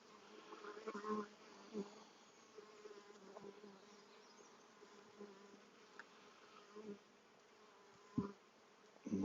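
Honey bees buzz faintly around an open hive, a low, wavering drone with a few louder passes as bees fly close, plus some soft handling bumps.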